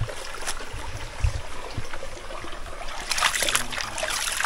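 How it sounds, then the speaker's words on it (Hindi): A jungle stream flows steadily nearby on a forest trek near Mahalaxmi, Dahanu, a constant rushing and trickling wash with brief splashy bursts, loud and close, with no talking. "मुझे पानी, बहते पानी का आवाज़ सुनने मिल रहा है"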